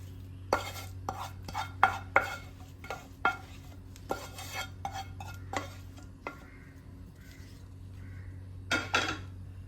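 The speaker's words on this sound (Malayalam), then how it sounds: "ഇനി നമുക്ക് റവ അരച്ചതിലേക്ക് ഇട്ടിട്ട് മിക്സ് ആക്കാം" Ground rava dosa batter mixed in a bowl with a spoon, a run of close clinks and scrapes against the bowl, then quieter stirring and a final burst of knocks over a low steady hum, with no voices.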